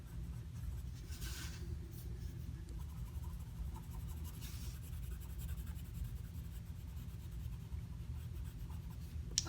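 A worn-down pencil coloring on paper, a continuous soft scratchy rubbing with steady back-and-forth strokes, close and quiet, no voices.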